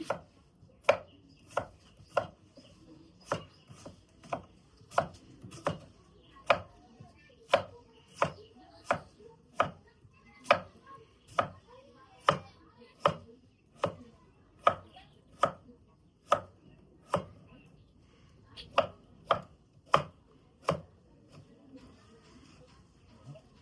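Steady, rhythmic knife chopping on a cutting board, about two dozen sharp crisp strikes at an even pace, close and clear with no talking.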